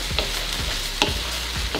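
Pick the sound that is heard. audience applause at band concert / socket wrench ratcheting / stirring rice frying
stirring rice frying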